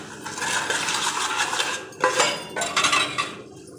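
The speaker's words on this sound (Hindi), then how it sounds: "मुझे बर्तन मांजते हुए दिखा देते हैं" Dishes being scrubbed and washed by hand, with continuous clattering of pots, plates and utensils and sharper clinks of metal cutlery, steady and close with brief louder bursts, no talking.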